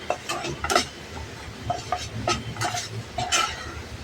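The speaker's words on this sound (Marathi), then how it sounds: "आपल्याला सतत असा मंद गॅसवर हा चांगला लालसर होईपर्यंत भाजून घ्यायचं आहे पीठ" Wheat flour roasting in ghee on a low flame for a sheera, stirred by hand with a run of close scraping strokes and light clinks of spoon against pan over a faint sizzle.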